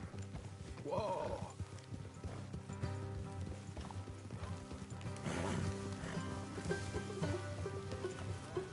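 Horse hooves clip-clop steadily with a horse whinnying, under background music and game ambience in Red Dead Redemption 2.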